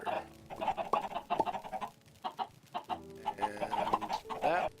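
Chickens clucking in the Minecraft video game, several bird calls in quick irregular bursts with short pauses, fairly close and moderately loud, with no talking.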